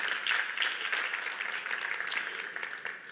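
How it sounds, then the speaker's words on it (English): Conference audience applauding a speaker on stage, steady sustained clapping from a crowd heard in a large hall, fading slightly toward the end, with no talking over it. "Please give some applause to Sebastian"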